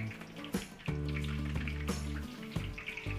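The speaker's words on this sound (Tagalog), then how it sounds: "Prito po natin dito yung ating pang kare-kare." Meat for kare-kare fries in hot cooking oil with a steady close sizzle, broken by several sharp bursts of crackling spatter.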